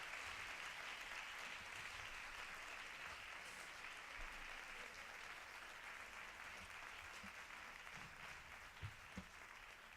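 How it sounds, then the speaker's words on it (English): Steady, distant applause from a forum audience at a peace foundation event, a dense wash of clapping that holds evenly for the whole stretch without voices breaking through. "please give them a big round of applause"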